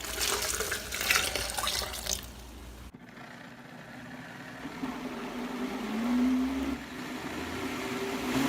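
Warm water running from a kitchen tap into a sink with a sieve, for soaking coconut flour: a steady, close splashing stream whose tone shifts partway through as the flow changes.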